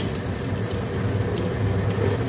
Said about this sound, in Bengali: এইবার এর মধ্যে দেবো ওইটুকু তেলের মধ্যেই দেবো, এই যে কয়টুকু তেল রয়েছে, একটা তেজপাতা আর একটু গোটা জিরে